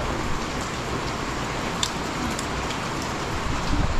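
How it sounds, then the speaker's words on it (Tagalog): Steady rain pours down in a dense, hissing wash, with occasional sharper drops standing out against the constant patter. "umuulan na."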